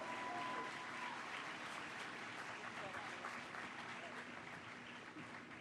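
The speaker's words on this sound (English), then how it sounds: "one more round of applause for my teen co-hosts of the day." Faint, distant crowd applause for teen co-hosts at an outdoor monument unveiling, a steady wash of clapping heard through a public-address setting that slowly fades.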